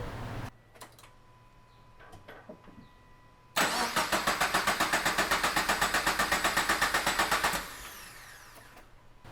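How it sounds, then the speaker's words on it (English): Subaru BRZ / Toyota FRS engine being started during a Visconti flex fuel kit install: a few faint clicks, then a long run of rapid, rhythmic starter cranking that stops abruptly, close and fairly loud, without speech. "we're going to start up the car, or attempt to start up the car"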